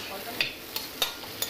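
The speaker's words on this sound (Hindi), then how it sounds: "मैं आलू को अच्छे से मिक्स कर लूँगी इसमें" Potatoes stirred into sizzling fried masala in a pan for a potato sabzi: a soft frying hiss underneath with four distinct scraping stir strokes spaced through the short moment.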